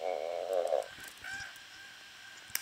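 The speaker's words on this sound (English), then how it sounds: "Hearing, like, bird noises." A goose-like honk, loud and close, rings out in stacked repeated calls for under a second during an online video game, followed by softer scattered game sounds and a sharp click at the end.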